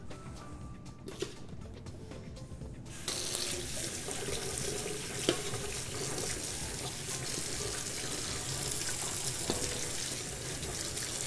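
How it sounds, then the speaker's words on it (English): A kitchen tap runs steadily while hands are washed, starting quieter then turning into a full, constant rush of water from about three seconds on, close and alone with no talk. "I'm going to wash my hands"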